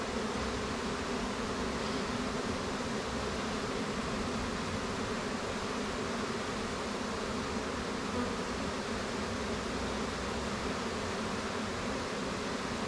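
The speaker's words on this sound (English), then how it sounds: "what this very much is another colony of bees" A colony of honey bees hums in a steady, dense drone that holds at an even level throughout, close by and with no voices over it.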